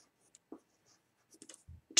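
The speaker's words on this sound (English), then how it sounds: "So I'll go ahead and write that in here." A pen or pencil scratches words onto a page in a quiet room, short sparse strokes and taps ending in a louder scrape.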